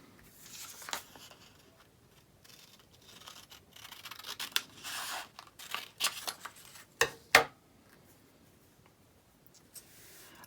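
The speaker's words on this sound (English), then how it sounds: "I want to cut this top section off." Scissors snip through a paper sleeve pattern, cutting off its top section, in a run of irregular crisp cuts and rustles that grow louder toward the middle, with two sharp close snaps near the end.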